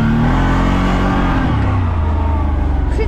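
A CF Moto 1000 engine accelerating smoothly, a loud close drone whose pitch shifts as it pulls away, with no talk over it.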